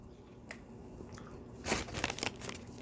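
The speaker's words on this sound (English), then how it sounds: "The cookie was nice and crunchy" A single crunchy bite into a Chick-fil-A chocolate chip cookie snaps sharply over a quiet room, followed by a few brief, faint crackles and chewing crunches.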